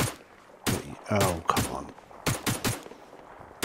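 Heavy gunfire in Arma 3 comes as several loud, sharp bursts and single shots spaced irregularly across a few seconds, with a voice speaking briefly between them.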